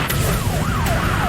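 Police cruiser siren during a car chase in Ohio, a rising and falling wail over steady road and engine noise, loud and close, with no voices.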